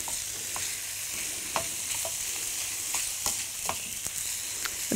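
Minced meat sizzles steadily in a hot pan, a constant crackling hiss with occasional scrapes and taps from stirring, no voices.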